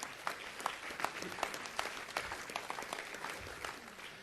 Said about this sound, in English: Esther Carter, give her a great big round of applause.